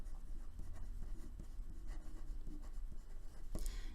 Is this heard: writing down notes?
yes